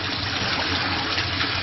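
Steady rinsing water running over a pet during a bath, a continuous close, loud gushing hiss with no breaks.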